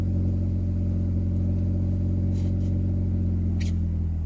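Steady, loud engine hum from a Mazda 3 with a newly replaced clutch, idling and put in gear, a constant low drone with no talk.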